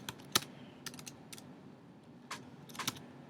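Typing on a computer keyboard during a chemistry lesson: sharp, close key clicks in short irregular bursts with pauses between them, fairly quiet, set against a faint room hum.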